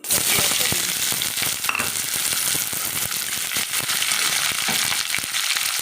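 Chopped onions sizzle and crackle steadily in hot oil seasoned with bay leaves and cumin, a dense, close, continuous frying hiss with small pops and no talking.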